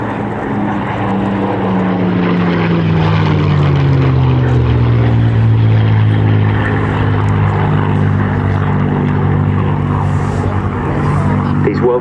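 A Supermarine Spitfire, MK356, flying a display at RAF Cosford airshow, its propeller engine a loud continuous drone whose pitch slides lower as it passes, with an announcer talking over it.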